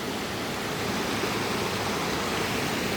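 A river in full flood after rain rushes past below, a dense, steady roar of water with no break or variation, loud and constant, with no voices.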